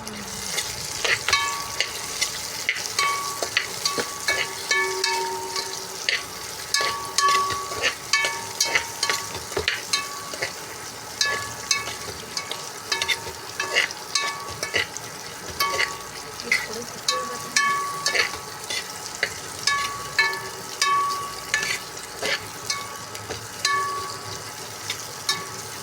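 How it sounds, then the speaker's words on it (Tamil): Onions sautéing in a pan for sambar rice, a constant crackling sizzle broken by frequent scraping stir strokes, close and moderately loud with no talk. "வெங்காயத்தை நல்லா வதக்கி விடவும்."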